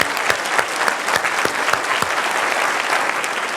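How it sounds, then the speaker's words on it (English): A conference audience gives a round of applause, many hands clapping briskly and evenly at close range for several seconds. "if we could give them a round of applause"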